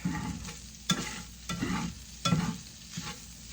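Sausage browning in a pan on a stovetop, a close sizzle with rhythmic scraping stirs about every second.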